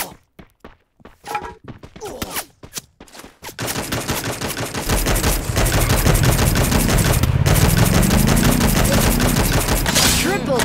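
Sparse sharp bangs give way to dense, continuous rapid gunfire with a rising whine underneath, loud and close, in a video game.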